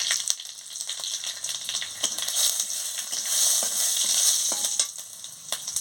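Dried red chilies, bay leaf and cumin seeds frying in hot oil as a tempering, a bright continuous sizzle with crackling pops and stirring scrapes, close and loud with no talk.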